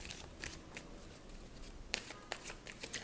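Tarot cards are shuffled and drawn by hand, with quiet, close riffling flicks and sharp snaps coming in irregular bursts, the clearest near the end, and no voice.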